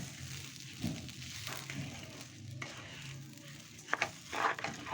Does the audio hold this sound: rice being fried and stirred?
yes